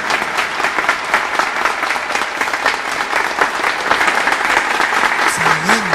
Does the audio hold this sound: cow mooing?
no